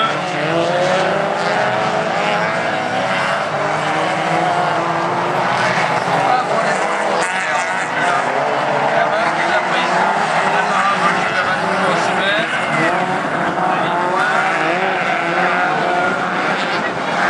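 A Citroën Saxo rally car races past at a French autocross event, its engine roaring loudly and continuously with rising and falling revs over the whole stretch, while people talk over the noise.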